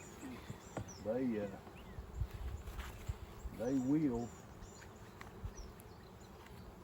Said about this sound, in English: there's a lot of bees, as you can tell in the air